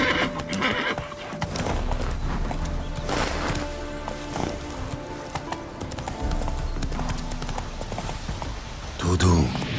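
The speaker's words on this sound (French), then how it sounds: "Au galop, Hamlet." Horse hooves clip-clopping at a gallop with whinnies and neighs in The Witcher 3, set amid game music and ambient sound, with a short louder burst near the end.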